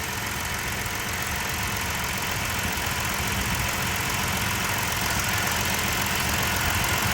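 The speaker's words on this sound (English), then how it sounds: "Listen to that engine." A police car's engine idles steadily and loudly up close at a salvage auto auction, a continuous low rumble with a faint knocking texture and no voices.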